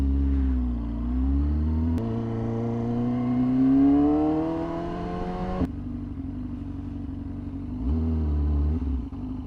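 A Yamaha R6 600cc motorcycle engine revs up with a rising whine, drops back between gear shifts and climbs again, loud and close.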